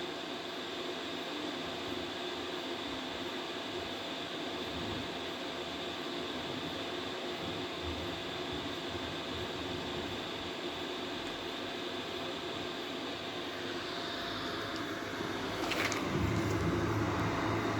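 A 12V Webasto-type portable diesel air heater runs with a steady, even roar and fan whoosh throughout, a dense constant drone that lifts slightly in loudness near the end, with no voices.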